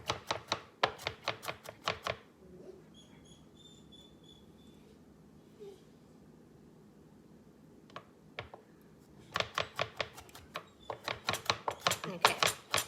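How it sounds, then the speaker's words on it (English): Rapid knife strokes chop against a cutting board in quick rhythmic bursts, with a quiet pause and a few faint taps in between. "So I am just gonna chop these up a little fine."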